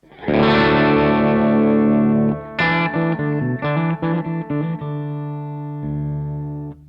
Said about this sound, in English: So this is my Les Paul, basically right away into the amp.